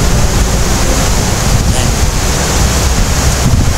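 A swollen river in flood during Typhoon Carina gives off a dense, constant rushing roar, mixed with wind buffeting the microphone and no break in the noise.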